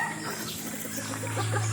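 A hen clucks briefly, close and fairly soft, in a short burst of backyard farmyard chatter.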